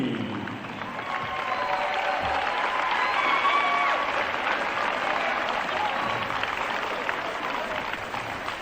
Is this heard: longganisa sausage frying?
no